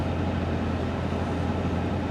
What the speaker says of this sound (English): I got a railroad truck pulling in front of me now.